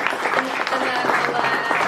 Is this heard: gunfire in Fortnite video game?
no